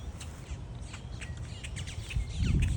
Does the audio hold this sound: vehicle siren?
no